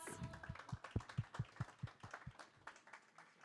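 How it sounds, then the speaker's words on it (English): A small audience at an AI meetup claps to welcome panelists, with distinct, fairly quiet hand claps in a quick uneven rhythm that thin out and fade over a few seconds. "Please give a round of applause."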